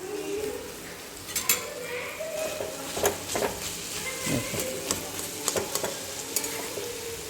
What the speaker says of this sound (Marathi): चांगला परतायचा एकदम